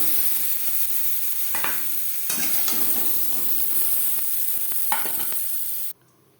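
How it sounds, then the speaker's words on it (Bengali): Potatoes frying in hot oil in a kadai give a steady, close sizzle with occasional scraping stirs, then the sound cuts off abruptly near the end. "আলু হালকা করে ভাজা হয়ে গেছে, এর থেকে বেশি ভাজবার প্রয়োজন নেই"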